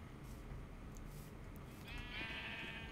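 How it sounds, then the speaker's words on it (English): Sheep in Minecraft bleating faintly over a low rumbling background, a single wavering bleat rising toward the end of a short, quiet stretch. "Immediately we have sheep."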